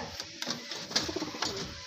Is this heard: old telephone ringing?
no